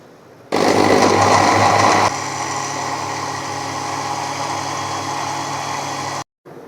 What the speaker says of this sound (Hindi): पहले हम इसे कवर करते हैं और कवर करने के बाद हम इसे करेंगे ब्लेंड।